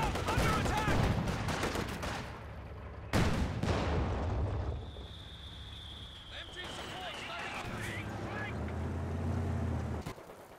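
Artillery barrage in Company of Heroes 2, a burst of heavy gunfire and explosions rumbling loudly through the first few seconds, then a quieter stretch with a whistling shell and low rumble, all under steady game commentary.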